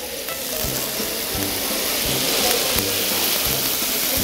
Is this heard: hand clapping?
no